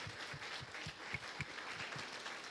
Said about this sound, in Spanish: Dele al Señor fuertes palmas, iglesia.